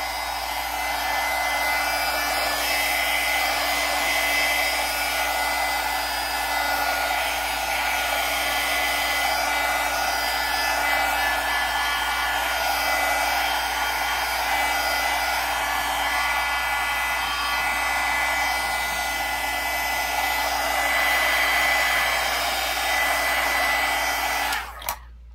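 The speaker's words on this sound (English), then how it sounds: "I'm going to go in with this heat gun, and I'm going to be heating it and drying it up." A heat gun blows a continuous, loud, steady whooshing hum up close as it dries a mixed media junk journal page, then shuts off sharply at the very end.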